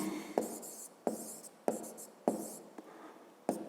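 A pen writes a word on paper in quick, close scratchy strokes, five or six short bursts each opened by a soft tap, in a quiet room with no voice.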